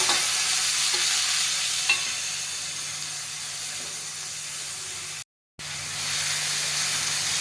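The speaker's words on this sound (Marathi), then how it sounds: "कांदा छान ब्राउनिश होत आलेला आहे आता टमाटर घालूया आपण" Browned onions frying in a pan for Vidarbha-style dahi misal as tomatoes go in: a steady, close, loud sizzle that runs without a break, cut off by a short silence near the end before the sizzle resumes.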